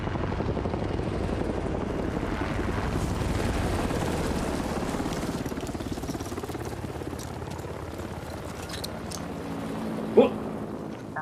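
Helicopters in a scene from The Walking Dead: World Beyond thud in a continuous loud rotor rumble, steady and close at first, then thinning slightly as the aircraft pass, with a brief knock near the end.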